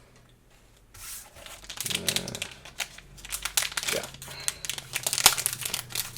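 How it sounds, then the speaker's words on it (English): Scissors snip and crinkle through the plastic wrapper of a Warcry rules card pack, a close, quiet run of rustling and crackling cuts with a brief murmured word. "So I'm going to need my trusty scissors here."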